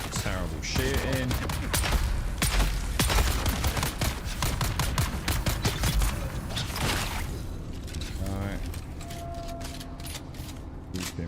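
Rapid gunfire from a firefight in the video game Dune: Awakening, with dense bursts of shots and booms that keep going for several seconds and then thin out, while a voice talks over the shooting.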